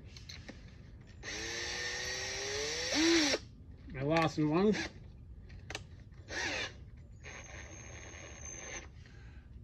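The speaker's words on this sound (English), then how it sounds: "I'm going to go get my drill set up with some left-hand drill bits" A power drill fitted with left-hand drill bits whirs in short bursts, its motor whine rising and falling in pitch, with someone talking between and over the runs.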